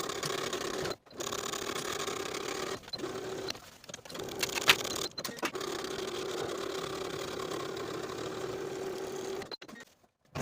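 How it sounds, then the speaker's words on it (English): A domestic sewing machine runs a curved seam on fabric for pull-on pants, humming steadily and close with a mid-pitched whir, broken by several short pauses. "Sew this curved seam with a 5/8 inch seam allowance"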